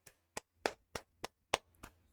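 A single person claps about eight times in an uneven rhythm, each clap sharp, close and alone against near silence, as a tribute to a departing goalkeeper.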